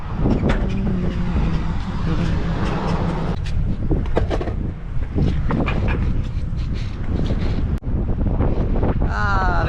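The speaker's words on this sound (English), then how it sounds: "It's really windy" Strong gusty wind buffets the microphone with a constant roaring rumble, while traffic noise passes in the background.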